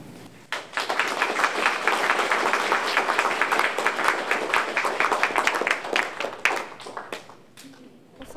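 Audience applause filling a ceremony hall at an event thanking Canadian veterans, dense steady clapping that swells quickly and holds for several seconds before tapering off near the end.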